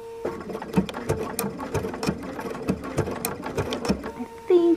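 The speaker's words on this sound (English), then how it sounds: "So what I'm going to do is just make a few stitches to start." A sewing machine stitches a raw-edge appliqué in blue thread, its needle clattering in a quick, even mechanical rhythm close by, with a short whirring pause near the end.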